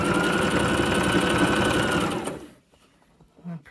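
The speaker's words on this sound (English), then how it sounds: "So I'm just going to keep sewing until I get near the next pin." A sewing machine stitches a cushion cover in a steady, close, continuous whir that runs for about two and a half seconds, then stops, leaving near silence and one soft knock.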